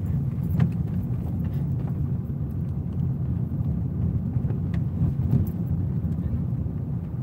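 A car juddering and bucking in third gear at low speed without the clutch, a steady low rumbling drone held throughout with slight uneven surges, and people talking faintly over it.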